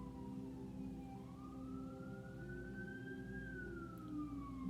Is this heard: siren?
yes